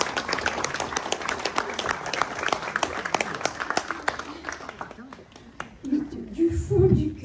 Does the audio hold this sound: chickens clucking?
no